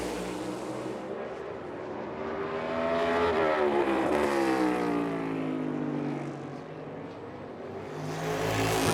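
A NASCAR Cup Series race car roars past on a qualifying lap, its engine note rising and falling with a doppler sweep as it nears and pulls away, loud and continuous.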